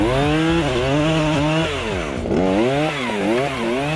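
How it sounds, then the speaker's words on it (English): A Husqvarna 535 FBX backpack chainsaw engine runs loud and close, its pitch revving up and down repeatedly as it cuts young trees in a forest thinning. "the new backpack chainsaw can make spacing physically easier and more efficient"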